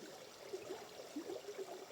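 A mountain stream runs over small waterfalls, giving a steady, soft rushing and gurgling of water that stays faint and continuous, with no voices.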